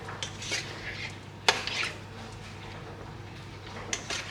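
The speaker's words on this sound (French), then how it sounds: "je viens remuer le truc" A utensil stirs food in a cooking pot with faint scraping and a few sharp metallic clinks against the rim, quiet and close, spaced irregularly over a low steady hum.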